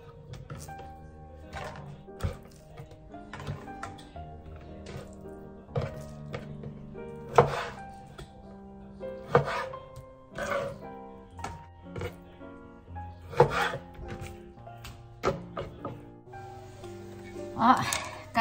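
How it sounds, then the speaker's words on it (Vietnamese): Knife slicing a cod fillet into individual portions on a cutting board: a series of dull, irregular thunks and taps of the blade hitting the board, close up, with a voice talking in between. "Xong rồi Mai cắt ra từng khoanh một đó, từng suất từng người một đó."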